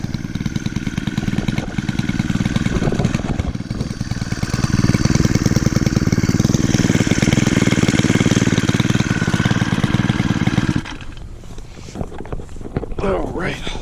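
A 2017 Stihl FS 91R string trimmer's small engine runs steadily nearby with a loud buzzing drone. It drops to a quieter idle for the last few seconds.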